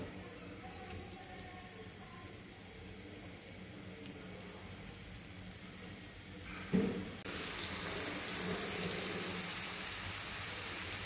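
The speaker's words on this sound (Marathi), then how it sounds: "तर आपण ह्यामध्ये आपल्या अळूवड्या आता छानपैकी शॅलो फ्राय करून घेऊ।" Aluwadi, colocasia leaf rolls, go into hot oil on a tawa over a gas flame. A soft clatter leads into a sudden loud, steady sizzle that carries on to the end.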